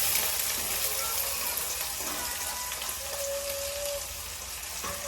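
Onion going into a pan with cumin already cooked, a steady bright sizzle of frying that fills the clip at moderate level, with small clinks and a brief tonal squeak near the end, no one talking.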